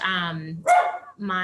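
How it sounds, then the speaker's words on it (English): A dog barks in the background during an online training session held from home, giving one sharp bark between stretches of a person's steady talking, which is louder and near. "And I do have to apologize for the dog barking."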